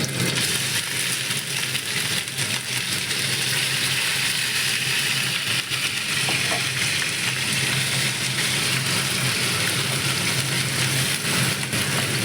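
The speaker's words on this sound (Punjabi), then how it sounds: "ਹੁਣ ਇਹਦੇ ਚ ਆਪਾਂ ਪਾਵਾਂਗੇ ਗ੍ਰਾਈਂਡ ਕੀਤੇ ਗੰਡੇ ਪਿਆਜ਼" Ground onions sizzle and crackle steadily in hot oil for a shahi paneer gravy, a dense continuous frying hiss that holds at the same level throughout.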